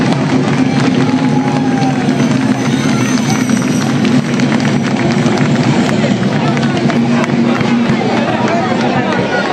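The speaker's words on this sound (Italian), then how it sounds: "bravissimi, un applauso." A crowd applauds and cheers steadily at a pariglias horseback acrobatics event in Nughedu San Nicolò, a dense, continuous wall of clapping and shouting that never drops away.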